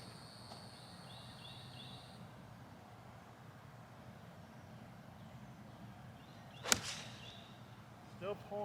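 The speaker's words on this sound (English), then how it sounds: "I'm gonna just hit a soft 5-iron in there." A soft 5-iron shot on a golf course sends the ball off with one crisp, sharp click in the middle of the stretch, set against steady outdoor wind and faint distant birds, with no talk around it.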